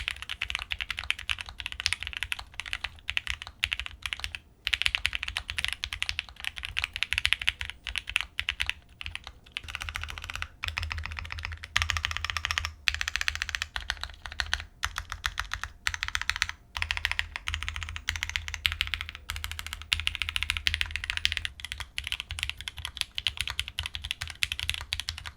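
Fast, continuous typing on a taped Bear 65 V2 custom Alice-layout mechanical keyboard, each keystroke a close, crisp clack in a dense, steady stream with no talking.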